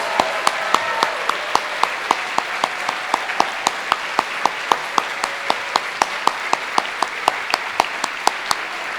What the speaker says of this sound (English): So will the class of 2025 please stand so we can give you one more round of applause